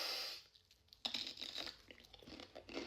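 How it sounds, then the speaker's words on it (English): A crisp bite into a raw cucumber, one sharp crunch after a quiet breath, followed by soft wet chewing close to the mouth. "I just smell it and then take a bite of this cucumber"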